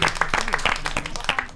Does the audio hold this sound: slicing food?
no